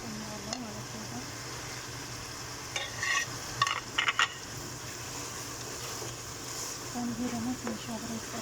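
Onions are stirred into tomato frying in a pan, giving a soft, steady sizzle with a few brief clattering stirs of the spoon, faint and close beneath a talking voice.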